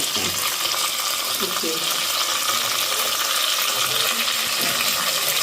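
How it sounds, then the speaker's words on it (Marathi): Onions and spices sautéing in a pan for masoor dal amti, a loud, dense, continuous sizzle that fills the whole stretch, with faint stirring scrapes underneath. "आता ते छान असं परतून घेणार आहे"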